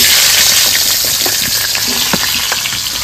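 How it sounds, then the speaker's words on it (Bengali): Home-grown eggplant frying in a little oil, a loud, steady close sizzle with occasional crackles and pops, no voices. "একটু তেলে ভেজে নেবো।"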